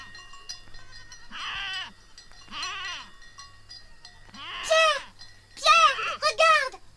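Several goats bleating on an alpine pasture, wavering cries coming one after another, a few near and loud, others fainter, over a low steady hum.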